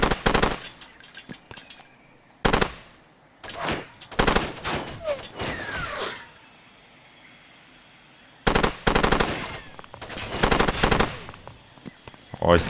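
In the video game Far Cry 2, a machine gun fires in loud, close bursts of rapid shots separated by pauses, with trailing mechanical clicks and a voice speaking between bursts.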